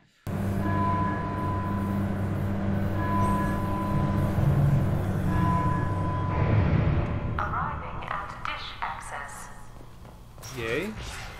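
Steady rolling rumble of a tram riding along rails in Mass Effect 2, droning throughout with a faint tonal hum, then clunks and sci-fi effects as it slows near the end.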